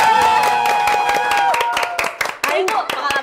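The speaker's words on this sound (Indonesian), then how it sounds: "Boleh dong tepuk tangannya" An audience claps in a brisk burst of applause during an Indonesian podcast recording, loud and close, with a voice talking over the clapping.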